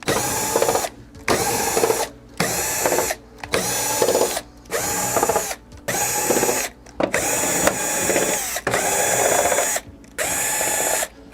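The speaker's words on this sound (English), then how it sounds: "And now I'm going to be removing the screws on the back cover." A power screwdriver backs screws out of the back cover of a Hisense 70H6570G television, some of them coarse-threaded plastic screws. Loud, close whirring comes in about nine short bursts of roughly a second each, separated by brief pauses.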